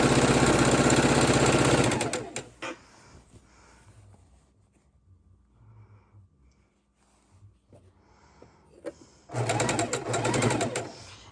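A sewing machine stitches rows of a large quilt made from precuts, running loud and close in two bursts, one at the start and one at the end, with a quiet stretch of soft handling noises between.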